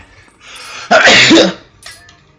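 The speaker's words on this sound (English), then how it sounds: "I don't know why I sneezed" A single sharp human sneeze bursts out at close range, loud and brief, with quieter breathy sounds before and a small tail after.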